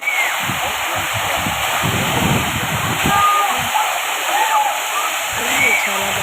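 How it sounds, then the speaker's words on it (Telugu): Thalakona waterfall roars in a loud, steady broadband rush of heavy falling water close by, with people talking over it throughout. "చాలా ఫోర్స్గా వస్తాయి వాటర్ అయితే."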